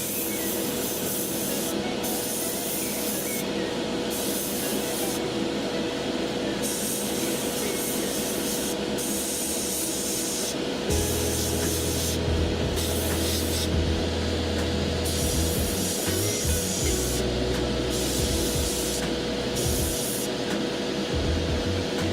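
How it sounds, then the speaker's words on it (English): An airbrush sprays paint onto a miniature general figure with a steady, close airy hiss that runs the whole time, while a low compressor-like hum joins partway through. "We'll put the airbrush down."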